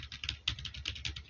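Touch typing on a computer keyboard with the Colemak layout, a rapid patter of soft key clicks, close and fairly quiet.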